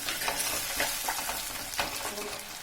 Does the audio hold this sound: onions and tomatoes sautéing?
yes